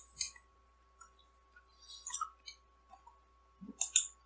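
Keys tapped on a computer keyboard to press Windows+R and type appwiz.cpl, a sparse series of light, quiet clicks in small irregular clusters, close up in a silent room.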